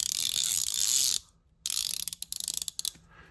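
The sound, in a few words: Matco Silver Eagle ratchet clicking with back drag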